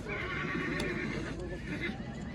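A young male horse, a colt, neighs at a busy livestock market in Kara-Balta, a loud, near whinny ringing out over the bustle and murmur of the crowd.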